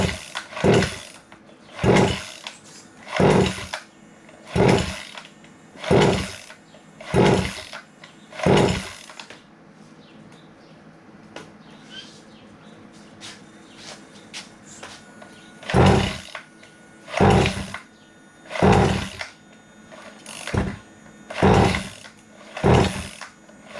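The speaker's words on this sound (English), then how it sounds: "This motor usually has a lot of compression and it's so hard to pull." An old outboard-style motor, left sitting for over two years, is pull-started on choke: about a dozen loud, close, rhythmic pull-cord bursts with a quiet gap in the middle.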